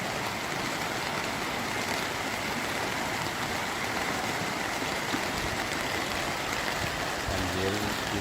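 Heavy floodwater rushes past in Lahat, a dense, steady roar of flowing water that fills every moment without a break, close and constant.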